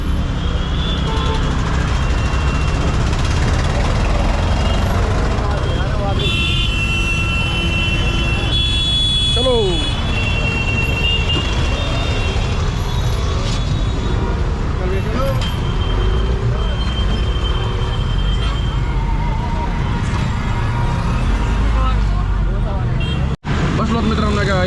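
Steady rumble of Delhi city traffic heard from inside a moving auto rickshaw, engine drone and passing cars, with voices and honking faintly mixed in.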